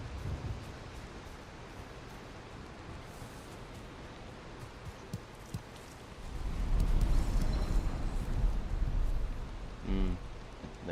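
Steady rain hiss in Valheim swells into a deep, loud thunder rumble about midway through, rolling on for several seconds before a final low crack near the end, with no voices.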